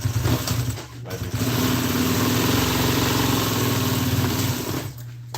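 Sewing machine stitching through lawn furniture seat upholstery, a steady mechanical whir with a fast rhythmic stitch pattern running loud and close for several seconds, briefly pausing near the start and end.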